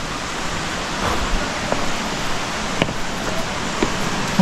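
Steady, loud rushing roar of a waterfall in Biliran Province, a broad continuous wash of falling water close by, with faint occasional knocks beneath it.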